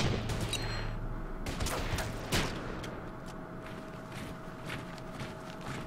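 Gunfire exchange in the war strategy game Order of Battle: a quick burst of overlapping rifle shots, then sharp single cracks, fading into a softer spread of distant fire and rumble.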